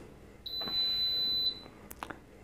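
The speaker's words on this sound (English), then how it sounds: "Start a beep sound." A bread maker's steady high electronic start beep holds for about a second, with a soft click at its start and end, then a few faint taps follow in a quiet room.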